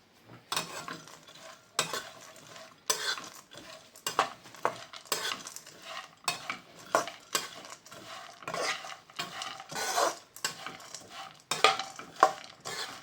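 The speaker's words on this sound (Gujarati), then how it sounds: "ચાલો આપણે બધાને પહેલાં મિક્સ કરીને થવા દઈએ થોડીક વાર." Cashews, almonds and walnuts stirred in a pan on medium heat for date sweet, giving repeated rhythmic scraping strokes of a spoon against metal, fairly quiet and close, with no talking.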